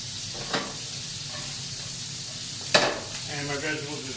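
Bulk breakfast sausage sizzles in a pan with a steady hiss, broken by two sharp clatters of stirring, the second one louder, followed by faint scraping.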